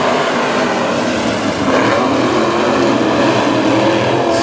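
WISSOTA Midwest Modified race cars roaring past on the Princeton Speedway track as racing resumes, a loud continuous engine drone that swells as the pack comes by, with no voices over it.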